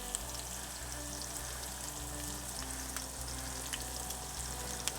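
Onion sautés in a pan on a grill, part of a traditional Newfoundland bologna sauce. A steady, fairly faint sizzle with light crackles runs throughout over a low hum, with no talking.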